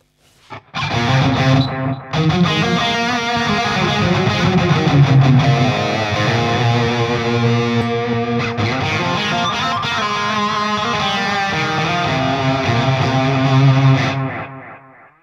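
An electric guitar plays a sustained melodic phrase through a Jeff Loomis Devil's Triad delay pedal, repeating notes trailing and overlapping, loud and continuous, ending with a fade.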